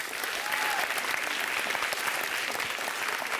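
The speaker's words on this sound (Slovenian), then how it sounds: "še aplavz za spodbudo" Even, dense applause from a crowd at a school speed-stacking cup competition, fairly soft and distant, holding steady throughout without a break.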